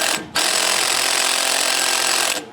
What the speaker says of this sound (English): I'm gonna pull the flywheel nut off, this bolt off, and just take a look